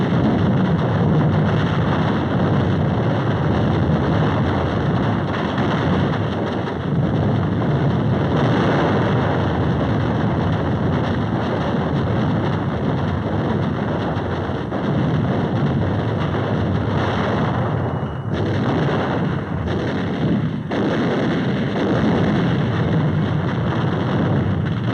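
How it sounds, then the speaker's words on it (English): Supporting warships lay point-blank naval gunfire on Iwo Jima, heard as a continuous rumbling, thunderous roar of distant bombardment. Faint booms rise now and then from the dense, steady din, with no voices over it. "supporting ships deliver point-blank fire."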